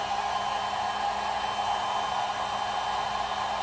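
A heat gun blows steadily on the plastic harness of a car's purge valve until the plastic turns shiny, a constant loud airy whoosh with a faint whine running unbroken throughout.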